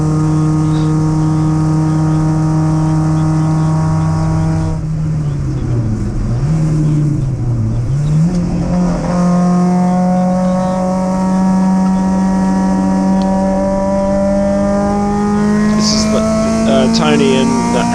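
MG race cars scream around a circuit in a close last-lap battle, the loud engine note dipping and climbing through gear changes and corners while a spectator's voice talks over it.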